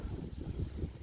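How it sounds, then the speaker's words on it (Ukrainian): Steady low rumbling buffet of wind hitting the microphone in a hazelnut orchard, loud and continuous throughout with gusty fluctuations. "Перепрошую за вітер."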